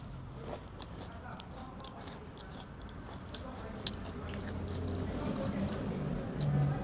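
Crunchy banana snack being bitten and chewed close up, a run of sharp crisp crunches over steady mouth noise, with a voice murmuring faintly underneath.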